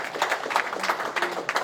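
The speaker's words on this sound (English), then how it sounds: "A big round of applause" An audience at a community gathering gives a round of applause, a moderate burst of scattered claps sustained across the moment.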